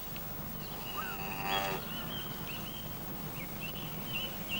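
Cows grazing on farm pasture, low lowing moos over a faint rural background, with birds chirping and whistling intermittently above them.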